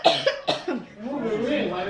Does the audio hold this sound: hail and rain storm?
no